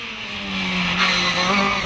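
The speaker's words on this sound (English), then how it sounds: "hurling the car up into Carousel almost without braking and getting on the power as quickly as possible through the bends" A Mini race car accelerates hard up the Gurston speed hillclimb, its engine note climbing steadily as it powers through the bends with a strained whine and tyre noise, growing louder.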